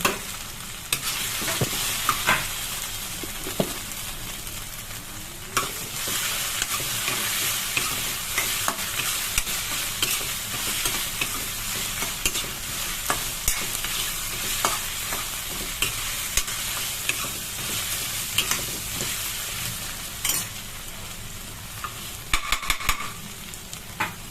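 Pointed gourd (potol) pieces with ginger-garlic paste frying in a pan, a loud continuous sizzle broken by frequent scraping stirs and occasional clinks of the spoon against the pan.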